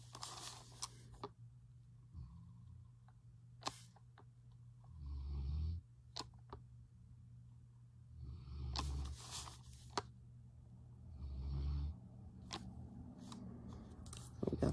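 Slow, rhythmic snoring from a sleeping puppy, soft breaths rising and falling in a few cycles, near and quiet, with small rustles and clicks between breaths.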